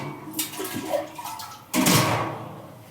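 Water splashes into a cooking pot holding tomato, onion and Mangalore cucumber for a village curry, in two short pours, the second one louder and longer, close by with no talking.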